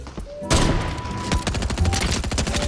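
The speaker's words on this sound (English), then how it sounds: "with an SMG from this distance, I just did 100 damage" Rapid SMG fire in a video game rattles off in quick repeated bursts, loud and close, with a brief voice underneath.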